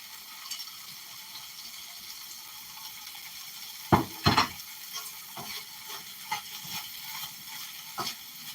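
Carrots, broccoli and leeks stir-fry for lo mein, giving a soft continuous sizzle broken by a few sharp clanks and scrapes of the utensil against the pan, quiet overall with no talking.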